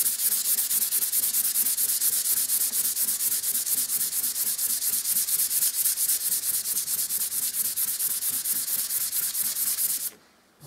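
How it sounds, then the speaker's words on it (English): Gloss paint is hand sanded to flatten brush marks, giving a continuous rapid back-and-forth rasping scrub that is loud and close and stops abruptly at the end. "So you can really give it a good sand and try and flatten some of them brush marks off a bit."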